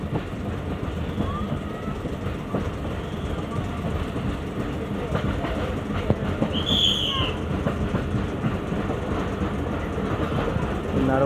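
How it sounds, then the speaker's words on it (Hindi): A passing train heard from outside at a station where passengers wait for a passenger train, giving a steady rumbling rail noise with faint clatter and a brief high squeal of wheels midway, under a busy background. "बाहर से ट्रेन गुजर रही है इस टाइम।"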